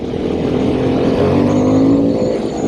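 A Harley-Davidson Sportster S motorcycle accelerates with a loud, continuous engine roar that climbs steadily in pitch, close and unbroken for the whole stretch.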